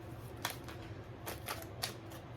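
Soft, quick riffling bursts of cards being shuffled, three short flurries spaced apart over a quiet background hum.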